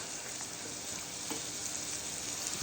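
Sliced onions frying in hot oil in a pan with salt and homemade ground spices for Maggi noodles, giving a steady close sizzle with faint stirring scrapes throughout, no voices.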